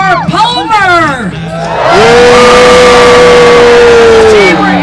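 Spectators at the Alaska State Fair cheer for the Palmer team, a loud, sustained roar of shouts and whoops that swells after a few scattered yells, with a host's voice heard at the start.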